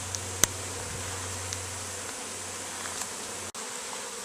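Honey bees buzzing around a hive being robbed, a continuous swarming drone of many insects close to the microphone, with a few sharp clicks and a brief dropout near the end.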